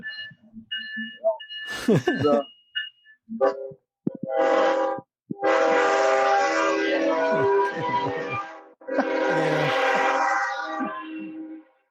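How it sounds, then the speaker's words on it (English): A train passes with its horn blowing in long, loud sustained blasts, broken by short gaps, with brief talk near the start before the horn takes over. "Here comes this fucking train again."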